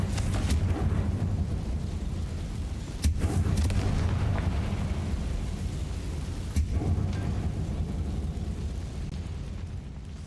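A Confringo fire spell blasts in Hogwarts Legacy, a heavy rumbling roar that fills the whole stretch, with sharper explosive bursts at two points and no talk over it.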